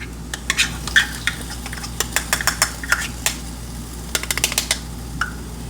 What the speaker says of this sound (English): And then I also add diced tomatoes.